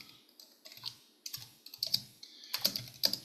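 Typing on a computer keyboard, close up and quiet: bursts of light key clicks in an uneven rhythm, speeding into quicker runs of taps toward the end, with no talking.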